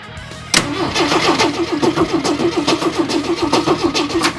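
A used Jeep 4.2 engine cranks, then catches and runs rough and unsteady with a steady pulsing rhythm, loud and close after a short quiet lead-in.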